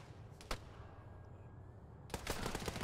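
Enemy gunfire in Arma 3, faint and distant, with a single sharp report early on and then a sustained burst of rapid shots near the end.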